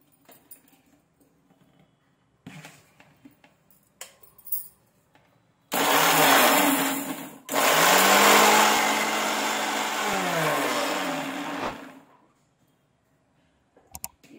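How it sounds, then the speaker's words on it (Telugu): A kitchen mixer grinder grinds salt and ingredients for tomato pachadi in two loud whirring bursts, the first brief, then a pause, then a longer steady grind that winds down to quiet. "ముందు ఇది గ్రైండ్ చేసుకొని"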